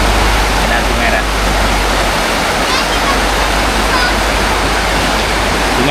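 A river near the Jerot Dusun campsite below Gunung Jerai rushes steadily in a close, loud, unbroken wash of water noise, with no pauses across the stretch.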